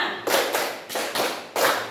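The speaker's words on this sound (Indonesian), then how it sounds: "Tepuk 1, tepuk 2, tepuk 3, tepuk 4, tepuk 5" Five bare-hand claps in slow, counted succession, each a sharp, fairly close smack with a short decaying tail and no voices over them.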